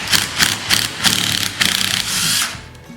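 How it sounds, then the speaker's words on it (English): A tool works at the fan on a Briggs & Stratton engine flywheel, making rapid rhythmic whirring bursts up close, about seven pulses in a row, before it winds down. "take this fan off"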